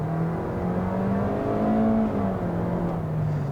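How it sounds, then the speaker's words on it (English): A 2022 Toyota Corolla Cross AWD with a CVT pulls away from a stop, its engine note rising smoothly in pitch as it gains speed, heard steadily from inside the cabin without talk. "As I accelerate here from a stop, you can feel that physical first gear gives this car a decent amount of pep off the line."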